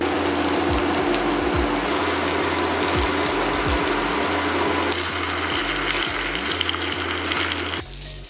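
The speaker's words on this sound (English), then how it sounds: "We just wanna brown probably for about 4 or 5 minutes on each side just to get a little bit of that color" Chicken pieces browning in a pan over medium-high heat for a creamy Cajun chicken dish, a steady loud sizzle and crackle running throughout with faint clinks of a utensil, no talk.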